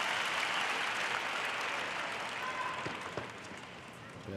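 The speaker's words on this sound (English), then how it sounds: "This is the crowd now recognizing that it's still match point." A tennis crowd at the 2018 US Open mixed doubles final applauds steadily at match point, a dense sustained clapping that gradually thins, with a commentator's voice faintly underneath.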